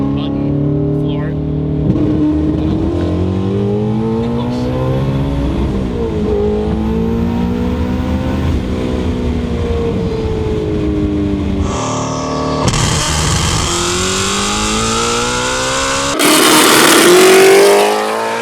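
A 1300 hp twin-turbo Shelby GT350 pulls hard at full throttle, heard from inside as a loud engine climbing steadily in pitch through several gear changes. A voice talks over it.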